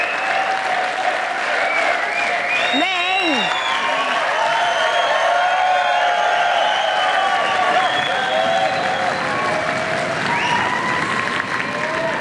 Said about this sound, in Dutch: Applausje voor jezelf hoor, je hoeft niet voor mij te klappen.